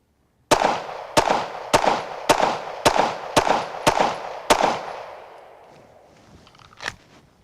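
Eight sharp handgun shots ring out at a steady pace of about one every half second at an outdoor range, loud and close, each with a short echo, followed by a quieter click and clatter.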